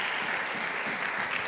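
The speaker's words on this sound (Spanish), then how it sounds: "Dar un aplauso al Señor, por favor." A church congregation applauds steadily and evenly, a dense wash of clapping filling the whole stretch at moderate loudness with no break.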